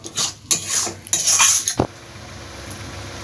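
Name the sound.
stirring mustard paste in a pan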